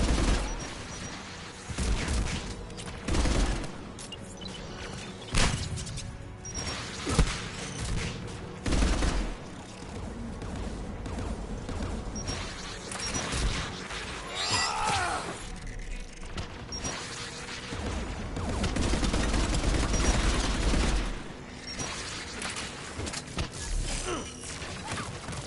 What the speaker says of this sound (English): Anti-aircraft gun.